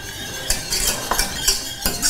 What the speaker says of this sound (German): Ich gieße jetzt nach und nach die Milch dazu und verrühre